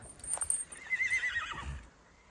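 A mare gives a short, high whinny nearby, with a few hoof clops underneath, then quiet.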